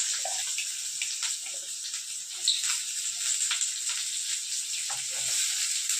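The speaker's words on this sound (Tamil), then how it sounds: "வெங்காயம் கொஞ்சம் வதங்கட்டும்" Onions sizzle and crackle steadily in hot oil, a soft continuous hiss with occasional pops, heard close and at a fairly low level.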